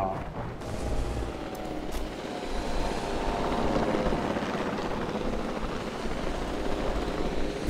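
Helicopter in the video game Jurassic World Evolution 2, a steady loud rotor roar and whine that fills the scene continuously, with a brief louder thump near the start.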